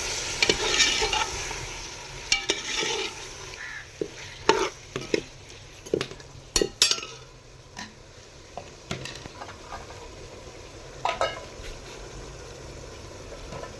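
Vegetables for a beef yakhni pulao cook in a pot over a wood-fired stove, with a soft sizzle beneath it and a string of sharp clinks and scrapes from a stirring spoon.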